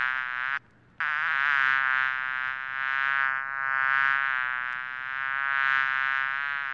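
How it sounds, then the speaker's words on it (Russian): A cartoon bee drones with a steady, tonal buzz that wavers slightly in pitch, close and clear. The buzz breaks off for a moment near the start, then holds on alone. "Мимо пролетала пчелка, она увидела наше красивое дерево яблоню"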